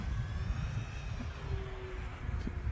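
An E-flite T-28 1.2 m RC model plane flies past with a continuous, loud engine drone under steady wind noise.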